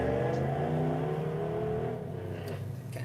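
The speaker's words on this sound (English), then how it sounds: "I don't know if y'all can hear that car." A car passes by outside, its engine note rising and then sliding down as it goes past at moderate distance, loud and steady with no talking.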